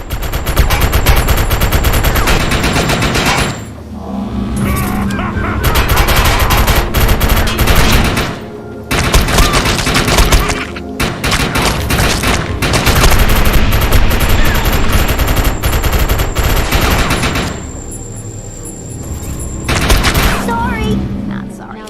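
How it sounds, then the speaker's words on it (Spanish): In the video game Defiance 2050, loud machine-gun fire pours out in long sustained bursts, broken by short pauses, with game effects and voices mixed in. "esto sí que es una ametralladora"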